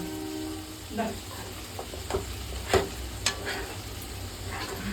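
Masala fries softly in oil inside a pressure cooker for chicken dum biryani, a steady low sizzle broken by a few clicks and scrapes of stirring.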